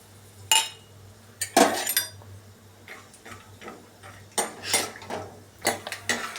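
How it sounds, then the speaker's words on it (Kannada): Peanuts drop into hot oil with mustard seeds in a pan for puffed-rice girmit, giving scattered clinks and rattles against the metal, moderately close with uneven bursts and no talking. "ಈಗ ನಾವು ಶೇಂಗಾ ಹಾಕೊಳ್ತಾ ಇದ್ದೀವಿ"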